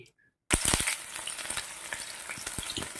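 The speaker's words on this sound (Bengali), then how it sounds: "এই যে দেখুন একটা পেঁয়াজ কুচি করে রেখেছি পুরনে, তা দিচ্ছি" Chopped onion drops into hot oil in a wok, bursting from near silence into a loud, bright sizzle with crackling pops, then settling into a steady frying hiss.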